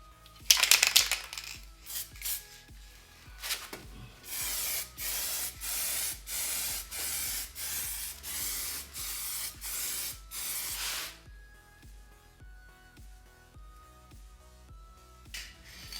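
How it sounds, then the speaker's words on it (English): A second coat of spray paint goes onto a car's damaged body panel, heard as a quick hiss near the start, then about seven close, even bursts of spray in a steady rhythm, followed by quiet handling noises. "So it's time for the second coat."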